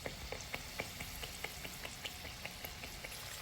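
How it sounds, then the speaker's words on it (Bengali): Aloo puri, a potato-stuffed fried bread, cooks in hot oil in a pan, giving a steady low sizzle with faint rhythmic ticks and pops spaced evenly throughout. "এক পাশ ভাজা হয়ে গেলে উল্টিয়ে অপর পাশও ভেজে নিতে হবে"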